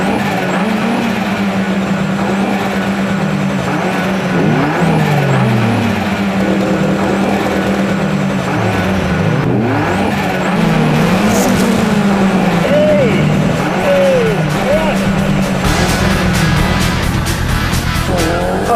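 Turbocharged Toyota Corolla with a 3S-GTE engine, about 650 bhp, launching hard off the line at a drag race, its loud engine roar rising with tyre squeal and other cars running nearby, while a voice talks over it throughout.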